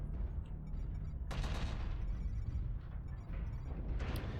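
Tank cannon fire in an online tank battle video game comes as a dense, rumbling barrage of booms and rattling shots, with one sharp burst standing out partway through, heard alone without talk.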